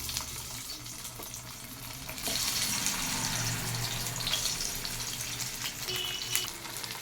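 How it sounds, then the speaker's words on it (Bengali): Oil sizzles and crackles steadily in a pan as fish fries, getting louder partway through as frying continues close by. "মাছের ঝাল রান্না হবে, তাই মাছটাকে আগে আমি একবার ভেজে নিচ্ছি।"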